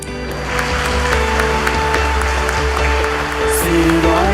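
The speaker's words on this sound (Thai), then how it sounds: "ให้พวกเราแสดงความยินดี ด้วยการปรบมือต้อนรับพระธาตุพร้อมๆ กันครับ" A crowd applauds together to welcome holy relics, an incorrupt heart four hundred years old, at a religious gathering. Steady, dense clapping runs throughout over sustained musical tones.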